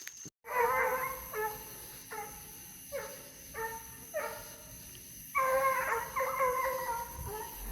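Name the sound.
coonhounds (Redbone) baying while trailing a raccoon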